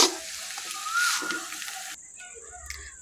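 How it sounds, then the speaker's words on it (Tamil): Tomato rice made with ration rice being stirred and mixed in a hot pan, a soft sizzle with scraping spoon strokes, fairly close and quiet, without talk. "பாருங்கள், நல்லா மிக்ஸ் பண்ணுறோம்."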